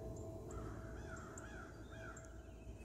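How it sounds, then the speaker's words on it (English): Outdoors at a campsite on a cool morning, a crow gives a series of hoarse caws at moderate distance. They sound over a steady low rumble of background noise, and no one speaks. "Good morning, Mr. Crow."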